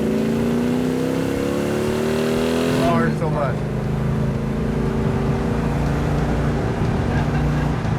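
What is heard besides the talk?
1967 Hemi GTX engine revving with dual quads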